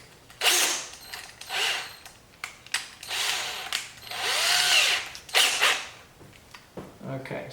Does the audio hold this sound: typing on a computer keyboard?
no